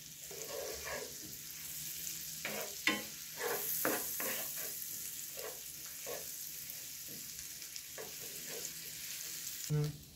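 Chopped garlic and onions sauté in oil in a pan for a creamy corn and ham dish, giving a steady close sizzle broken by repeated scraping stir clatters and a louder knock near the end.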